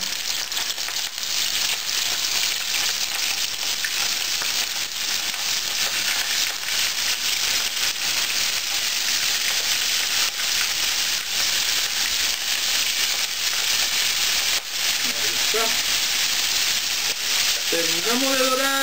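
Mixed seafood for jalea mixta fries in a reheated pan of hot oil, a loud, steady, dense sizzle and crackle running throughout with a few brief stirring clinks near the end.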